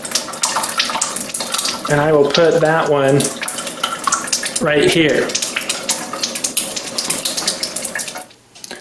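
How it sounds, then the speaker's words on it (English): Water pours steadily from the bottom hose of a Kangen ionizer machine into a container, a continuous splashing stream under someone speaking nearby. "And I'm going to collect out of this bottom hose the acidic water coming out of the bottom hose."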